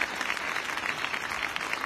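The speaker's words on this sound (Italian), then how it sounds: "L'applauso più grande va fatto ai bambini che questa sera stanno rendendo magica" Audience applause for children at a Christmas concert in Gesualdo, a steady wash of clapping from a large crowd, fairly far off and even in level throughout.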